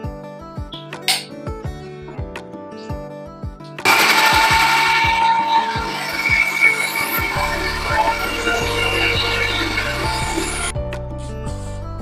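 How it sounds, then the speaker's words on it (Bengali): An electric mixer grinder runs loudly for about seven seconds, grinding mustard into paste. It starts abruptly and stops abruptly, with tonal background music playing before and after. "এবার কিন্তু মিক্সিতে আমি এটাকে পিষে ফেলবো"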